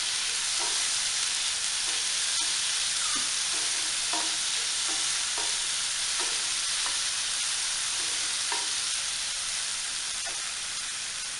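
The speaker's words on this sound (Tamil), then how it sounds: "மீடியம் சைஸ் தக்காளி எடுத்து அதையும் பொடிசாக கட் பண்ணி அதையும் போட்டு இப்போ நல்லா வதக்கிக்கலாம்." Chopped medium tomatoes sautéing in a pan for tomato rice, a steady soft sizzle with occasional stirring scrapes and taps throughout, close and alone with no talk.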